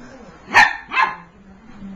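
A Schnoodle dog barks twice in quick succession, close by and fairly loud, with a low background hum between the barks.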